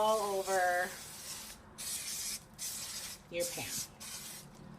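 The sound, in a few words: non-stick cooking spray sprayed onto a pan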